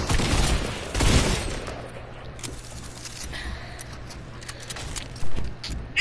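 Gunfire from the video game Fortnite comes in a loud rapid burst at the start, then a quieter stretch with scattered shots and clicks, and a final sharp pair near the end, with no talk.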